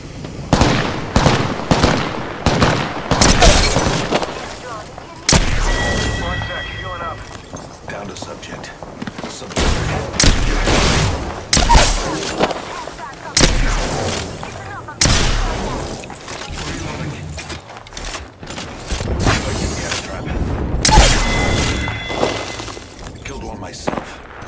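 Video game gunfire from a Peacekeeper weapon cracks out in rapid bursts of loud shots with booming blasts, while in-game voices talk over the shooting.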